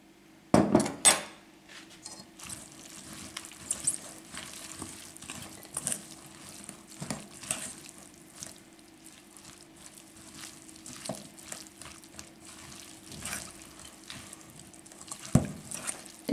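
Chopped dried pepper and leek frying in oil in a pan, a soft steady sizzle with occasional clinks and stirring taps of a utensil against the cookware.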